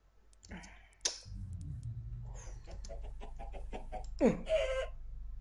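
A chicken in the Minecraft video game gives short clucks, mixed with rapid clicking from the game and someone talking excitedly over it.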